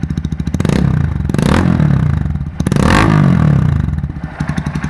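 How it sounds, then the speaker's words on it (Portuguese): Rumble and exhaust note of a 2015 Honda Titan EX motorcycle engine, close and loud, rising in repeated revs with steady pulsing firing between them and no talking. "E aqui tá o ronco do motor, do escape."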